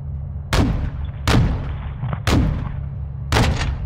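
Call of Duty Modern Warfare 2 gunfire and artillery attacking mortar positions: four heavy booming blasts at roughly one-second intervals, each with a sharp crack and rumbling tail over a constant low drone.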